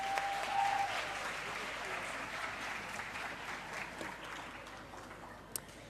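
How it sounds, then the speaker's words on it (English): An audience claps at a campus community safety programme launch at the University of KwaZulu-Natal, a soft, even round of applause that slowly thins out. "A round of applause, ladies and gents."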